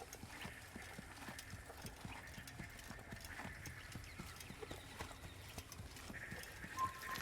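Horse hooves galloping in the video game Assassin's Creed, a fast, steady clip-clop rhythm. It runs throughout at moderate level, with faint game ambience and an occasional whinny-like tone near the end.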